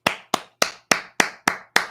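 Seven sharp, separate hand claps land at a slow, steady pace. They are crisp and close, like one person clapping alone rather than a crowd.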